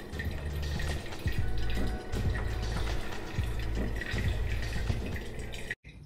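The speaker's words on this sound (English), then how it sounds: "As I get the fan up to speed, you can see it starts stirring the water reasonably vigorously." Water churned vigorously in a glass jar by a fan-driven magnetic stirrer, a steady close liquid swirl and gurgle with low rhythmic whirring underneath, continuous for several seconds before a brief break near the end.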